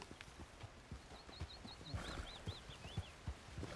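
Donkey hooves clip-clop at a steady walking pace in Red Dead Redemption 2 on the island of Guarma, with repeated close, soft thuds and high bird-like chirps overhead.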